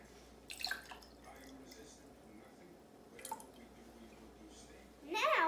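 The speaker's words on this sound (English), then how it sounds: "We are going to start by putting in the water." Water is poured into a container for a kitchen science layering experiment, giving soft splashy bursts and a trickle toward the end, faint and close with quiet background between pours.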